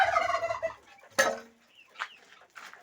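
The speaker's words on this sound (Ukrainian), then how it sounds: "Перепілочки. Голодні." Hungry quails calling inside a village farm coop, a few harsh bird calls with a loud sharp cry near the middle, then softer chirps trailing off, close by with no talk.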